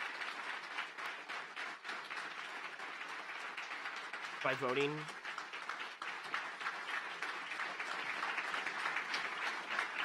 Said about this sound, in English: Okay, you can stop clapping.